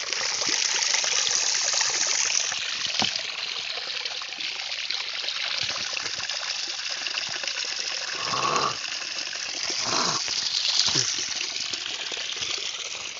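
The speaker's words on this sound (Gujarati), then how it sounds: "બોર્યું જો તમને ફુવારો બતાવું" Steady rushing splash of water pouring hard from a borewell pipe, continuous and close, with brief voices breaking in midway.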